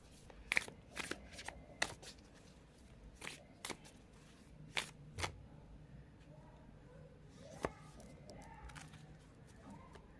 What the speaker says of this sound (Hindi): so first I will pick a oracle card from this deck, then I will pick tarot